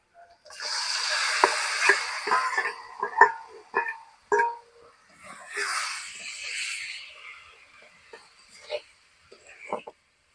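Chicken skin and spices tipped into hot oil for a potato and chicken skin fry, a loud burst of sizzling that fades, then a second hiss later, with stirring clinks and a voice talking.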